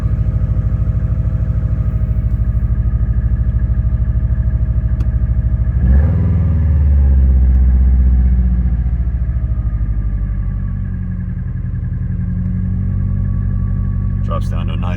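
A 2003 Subaru WRX idles after a cold start, a loud close steady engine rumble that lurches at one point, then settles back into an even idle.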